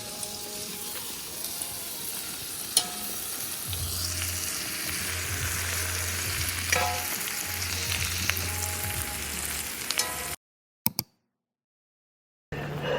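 Jjageuri stew with smoked duck, whole garlic and chives sizzles and bubbles steadily in a pan at an autumn campsite. The frying hiss is close and continuous under a low background hum, then stops abruptly near the end.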